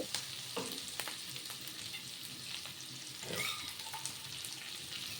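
Capsicum and onion fry in a pan with a soft, steady sizzle, broken by faint scraping stir strokes and light clinks, heard close and alone.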